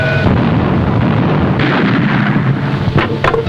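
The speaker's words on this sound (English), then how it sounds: "Ready to open fire, sir." Heavy naval guns firing from a warship in 1941, a loud continuous rumble of booming blasts and rolling concussions with a few sharper reports near the end.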